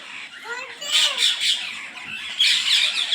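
A flock of parrots gives out harsh, overlapping squawks in repeated bursts, fairly close and loud, with short dips in between.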